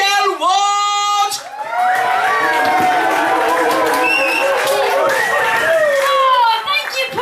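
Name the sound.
audience cheering and clapping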